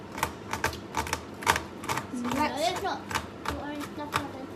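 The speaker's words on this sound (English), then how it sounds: "let's give these a good chop through" A knife chops chocolate on a board for a chocolate shake, with quick irregular taps near and clear, while a voice talks over part of it.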